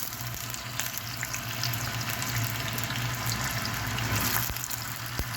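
Meatballs frying in oil for a potato meatball stew, a steady bubbling sizzle with faint watery crackle running evenly throughout, close and moderately quiet with no voices.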